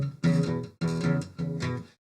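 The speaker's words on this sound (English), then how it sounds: "you want to start out playing the blues doing the shuffle," Blues shuffle strummed on an electric guitar in three rhythmic chord bursts, full and close, with no voice over it and a clean stop at the end.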